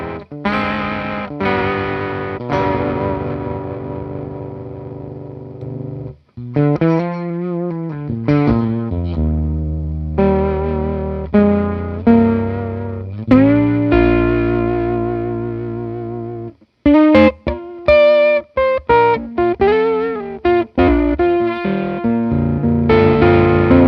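An electric guitar played through an effects pedal rings out in distorted, modulated chords and single notes, with warbling chorus-like swells and echoing tails, alone with no talk.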